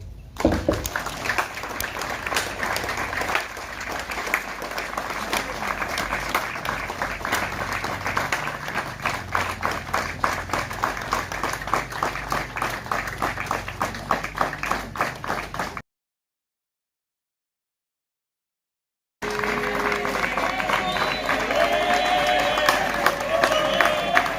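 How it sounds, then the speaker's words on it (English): A graduation ceremony audience claps at length, a dense, fast patter of many hands mixed with crowd murmur, cutting briefly to silence before the clapping resumes just as strongly. "we shall clap again"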